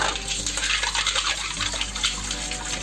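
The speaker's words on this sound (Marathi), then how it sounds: "त्यामुळे चोळून ह्या चांगल्या धुवायच्या. ती 4-5 वेळा धुवायच्या." Small clams being washed in a bowl of water give a continuous close splashing and swirling, with light clinks of shells rattling against each other and no voices.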